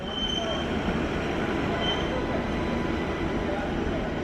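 A spare Viva Rail train pulls into a station, a steady rumbling rail noise with faint wheel squeal, continuous and fairly close, with a voice speaking over it.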